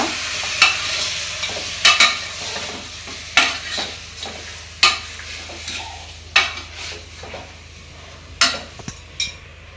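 Mutton frying in a pan with steady sizzle, broken by a series of sharp metal scrapes and clinks of a spoon stirring against the pot, roughly every second or two, close and without talk.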